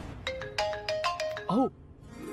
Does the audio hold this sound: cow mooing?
no